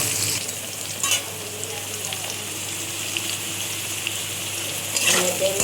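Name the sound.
spices sautéing in oil for cauliflower and katla fish curry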